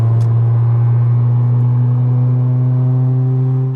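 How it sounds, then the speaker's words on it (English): Car engine fitted with a Y-shaped exhaust, about 215 brake horsepower, holding a loud, steady low drone with strong harmonics, close and continuous throughout with no talk. "the new Y-shaped exhaust, which does look great by the way, but oh my god, does it drone on the motorway"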